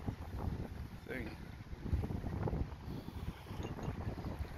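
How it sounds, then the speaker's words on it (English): Strong wind gusting in Prague, buffeting the microphone with uneven low roaring bursts, while voices talk faintly underneath. "Very windy."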